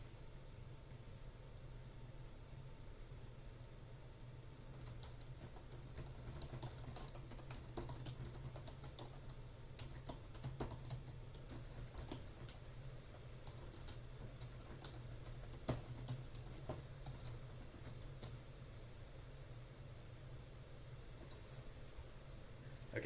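Soft, irregular clicks of typing on a computer keyboard while a short post is written, sitting fairly quiet above a steady low background hum with no talking.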